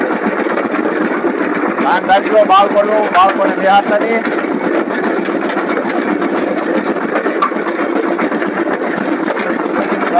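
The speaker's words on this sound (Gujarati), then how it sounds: "અમારું કટર હાલે છે પાવરથી લખી." A power tiller engine runs steadily in a turmeric field while ridges are formed, its continuous, loud drone filling the whole clip as people talk over it.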